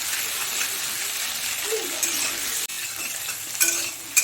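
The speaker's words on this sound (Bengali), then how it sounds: "দিয়ে একটু মশলাগুলো একসঙ্গে একটু ভেজে নেব" Ginger paste and ground spices fry in a pan for a Bengali bata fish curry with papaya and potato, giving a steady close sizzle with light stirring scrapes throughout.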